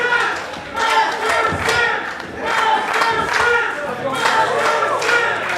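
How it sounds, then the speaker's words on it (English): A wrestling crowd greets a hometown wrestler making his ring entrance, loud rhythmic chanting and clapping swelling in repeated bursts, close and energetic, with shouts mixed through the noise. "You can hear how excited this crowd is to see Masterson back in the ring"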